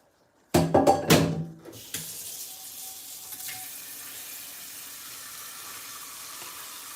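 A cooking pot being washed in a sink: a loud burst of splashing and clattering water at first, then a steady, softer stream of tap water running on without speech.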